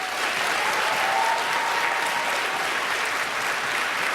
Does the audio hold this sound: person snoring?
no